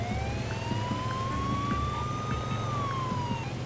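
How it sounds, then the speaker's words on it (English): A wailing electronic siren sweeps slowly upward and then down, steady and loud over a constant low engine-like hum, with no voices. "I have the lights and I have the siren."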